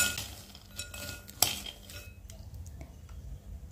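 A spoon clinks and scrapes against a bowl while stirring peanuts, quick light taps with one sharper knock, quiet and close.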